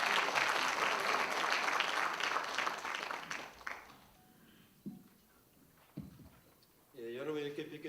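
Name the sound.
applause welcoming party leader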